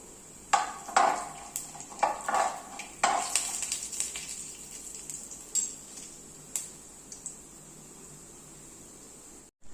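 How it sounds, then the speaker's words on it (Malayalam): Urad dal frying in a pan while being stirred until brown, heard as a string of light scraping and clinking strokes of a spatula against the pan over a faint sizzle, fairly quiet and close, with no talking. "ഉഴുന്ന് പരിപ്പ് ഒന്ന് ബ്രൗൺ കളർ ആവുന്നിടം വരെ നമുക്കൊന്ന് ഇളക്കി കൊടുക്കാം."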